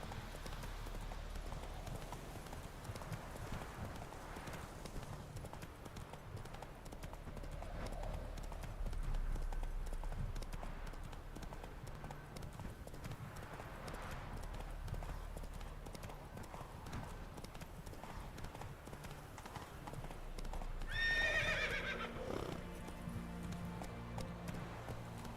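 A horse in The Witcher video game gallops with rhythmic clip-clop hoofbeats throughout, steady and moderately close, with a brief neigh near the end; game sounds and ambience run underneath.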